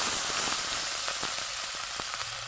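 Rohu fish pieces hit hot oil in a heated wok for a curry with onion shoots, giving a fairly quiet, steady crackling sizzle with small pops, heard without talking.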